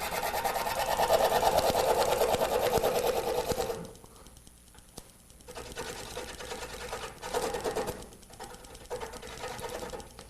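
A wood lathe whirs loudly while a tool roughs out a mesquite Christmas tree, cutting hard for about four seconds, then dropping to quieter, intermittent cutting with scrapes and bumps.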